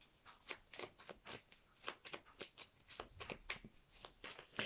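A deck of cards being shuffled, soft and close, with quick repeated riffling flutters and taps in an irregular rhythm, quiet and alone without talk.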